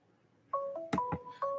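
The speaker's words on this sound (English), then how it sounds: "We got a phone call." A telephone gives off a short sequence of electronic tones, several distinct beeps at varied pitches in quick succession, clear and close with no talking over them.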